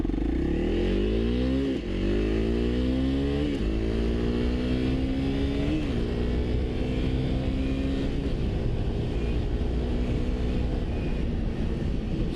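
A 2025 Honda CRF300L dual-sport motorcycle accelerating hard from a standstill through several gears, its loud engine rising in pitch, dropping briefly at each shift and climbing again, close and continuous with no talk.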